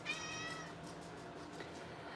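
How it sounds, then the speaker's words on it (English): A pet cat lets out a clear, drawn-out meow close by, then fades into soft background hum. "Oh, kitty, come on up here and show them yourself then."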